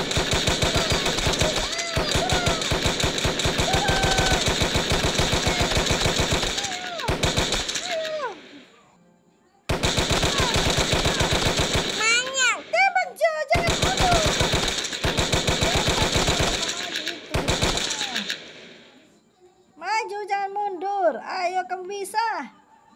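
Machine gun fire in a Skibidi Toilet video game: loud, rapid bursts of automatic shots in several long strings, separated by brief silences, with some sharp higher-pitched effects near the end.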